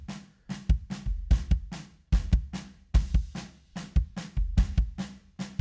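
Kick drum run through the compressor on an SSL 4K E console, a steady pattern of punchy low thumps, often in quick pairs, each with a short compressed tail, close and loud with no other sounds.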